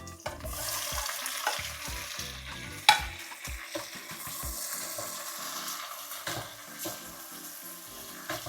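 Tomatoes sizzle in a hot pan with oil while a utensil scrapes and stirs, with irregular clinks and one sharp knock partway through.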